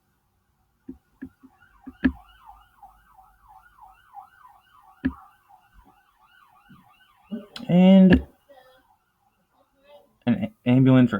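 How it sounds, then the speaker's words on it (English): A wavering emergency siren from an ambulance or police car passes outside, faint and distant behind scattered clicks and room sounds, with a voice breaking in toward the end. "an ambulance or a cop or somebody."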